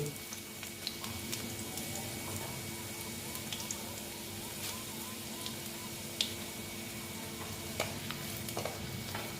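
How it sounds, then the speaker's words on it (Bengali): Garlic fries in cooking oil in a pan for a Bengali red amaranth (lal shak) dish, a steady close sizzle running throughout with occasional sharp clicks of stirring and pops. "তারপরে দিচ্ছি রসুন দিয়ে একটু ভেজে নিচ্ছি"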